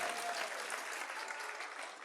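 Audience applause at a motivational talk, a dense, steady burst of many hands clapping together that fills the whole clip, close and fairly loud.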